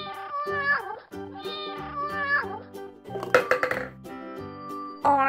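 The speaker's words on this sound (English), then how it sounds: "Orange kitty cat." A cartoon cat meows in a nursery-rhyme setting: a string of several tonal, sliding meows follows in quick succession, with musical accompaniment under them. The cat sounds are loud and close.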